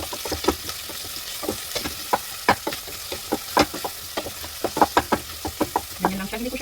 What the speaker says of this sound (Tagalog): gisa na natin ang ating ingredients